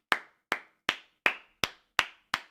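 Seven loud, separate claps or sharp hand slaps, spaced about half a second apart in a slow, steady rhythm, each with a short decay. They come from people at a Manchester United vs Sunderland Premier League watchalong.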